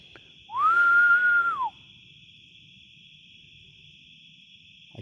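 A single sustained whistled tone, slightly rising then steady and falling away, rings out for about a second in a quiet wooded setting, with a constant high insect-like hum running throughout.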